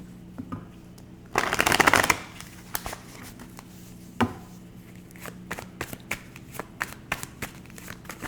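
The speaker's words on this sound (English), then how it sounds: "Last shuffle." Tarot cards are given a loud riffling shuffle near the mic for just under a second, followed by scattered soft taps and handling clicks of the deck.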